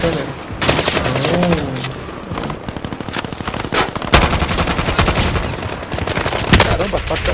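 Rapid automatic gunfire in the video game Call of Duty: Modern Warfare, loud bursts of machine-gun shots rattling in fast rhythm with sharper single cracks, nearly continuous throughout.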